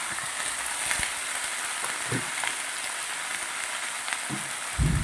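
Cabbage, cauliflower, beans and carrots frying in a pan, a steady soft sizzle and crackle with a few faint clinks of stirring.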